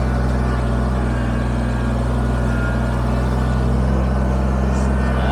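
Kubota BX23S compact tractor driving while spreading stone to build a storage trailer pad: a close, loud, steady diesel engine drone with a strong low hum and constant rumble, uninterrupted throughout.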